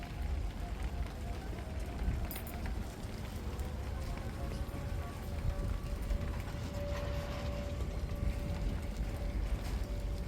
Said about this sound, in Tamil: பாருங்க காற்றுலாம் கடுமையாக இருக்குது சரியான காற்றுங்க மழையும் பாருங்கள் நல்ல மழைங்க